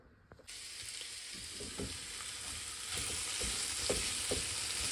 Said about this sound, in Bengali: এটা হচ্ছে মিষ্টি লাউ ভর্তা করছি, সাথে ফ্রাই করে নিচ্ছি।